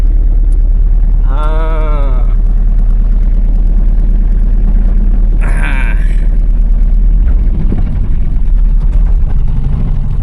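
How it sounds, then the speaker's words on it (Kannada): The diesel engine of a three-wheeler goods vehicle, the same engine as a Piaggio Ape auto, idles steadily with a low, rattling throb, broken twice by short tonal sounds. "ಸೇಮ್ ಅಪ್ಪೆ ಆಟೋ ಇಂಜಿನೇ ಇದು"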